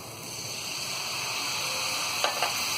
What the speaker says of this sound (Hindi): और थोड़ी देर इसे भी हम भून लेंगे।